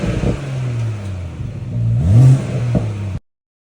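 A BMW M140i with a B58 engine, stage 2 tune at 450 bhp and straight-pipe exhaust in Sport Plus mode, idles with a low rumble, then gives one sharp rev and a couple of quick blips, loud and close.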